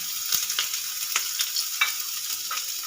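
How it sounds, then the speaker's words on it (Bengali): Chopped onion and garlic sizzle steadily in hot oil for lemon chicken, a bright continuous hiss broken by a few sharp spatters and utensil ticks, close and alone. "আমার তেলটা গরম হয়ে গেছে এবার আমি দিয়ে দেব পেঁয়াজ কুচি দিয়ে দেব রসুন কুচি"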